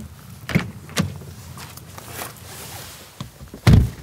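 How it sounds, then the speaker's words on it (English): The power-operated door handles of a 2025 Porsche 911 Carrera spring out, giving a few distinct mechanical clicks and thunks. A louder solid thump near the end stands out over faint ambient background, with no talk. "power-operated door handles spring out to allow you to enter"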